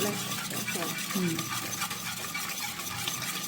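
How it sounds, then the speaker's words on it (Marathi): Cooked dal with sambar masala, turmeric and oil being whisked vigorously in a pot, giving a continuous churning, sloshing sound with faint clinks of utensils throughout. "आता हे छान असं मस्त फेटून घ्यायचं"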